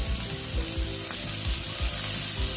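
Steady oil sizzling and crackling of bitter gourd with turmeric frying in a pan, with rhythmic low scraping or stirring thumps underneath.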